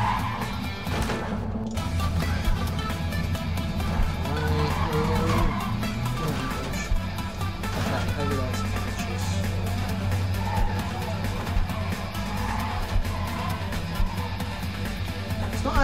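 Heavy lorry engines drone continuously with tire skids and occasional knocks in the video game Clustertruck, a busy driving soundscape with no pauses.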